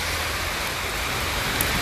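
Heavy rain pours steadily in Paris, a dense, loud and unbroken hiss with no voices.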